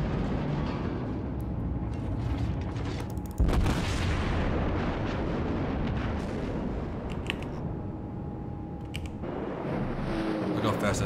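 Naval gunfire and incoming shell impacts in World of Warships around a German heavy cruiser, the Admiral Hipper, a dense roaring rumble with heavy booming blasts, one sharp loud hit, and someone talking over it.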